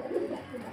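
A pigeon at a pigeon seller's place gives a short, soft, low coo, close and fairly quiet, with no talk over it.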